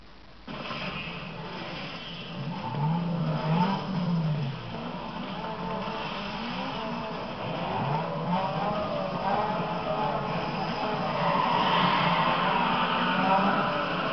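Race car engines rev and accelerate in Need for Speed Underground 2, a steady buzzing drone with rising and falling pitch that runs throughout, loud and continuous.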